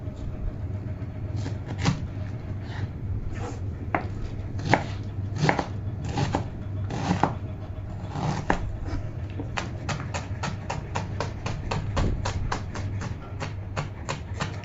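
Knife blade mincing mixed seafood on a cutting board for a coconut crab paste sauce, a long run of sharp, close chops that start irregular and speed into a steady rapid rhythm, with no talk.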